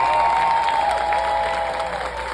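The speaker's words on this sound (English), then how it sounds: "Let's give them a round of applause, guys." Crowd applause at a school marching band camp performance, a dense wash of clapping and cheering heard at a steady level throughout the short stretch.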